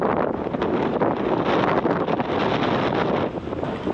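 Strong, steady wind roars and buffets the microphone throughout on a boat trip toward Blokzijl, gusting slightly with a low rumble and no voices.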